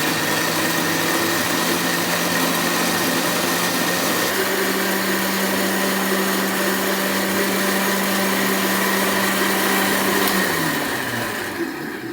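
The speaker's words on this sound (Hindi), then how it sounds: "अब हम करेंगे इसको ग्राइंड" Cucumber with a pinch of salt whirring in a blender for juice, a loud steady motor drone that shifts pitch midway and winds down at the end, with no talk.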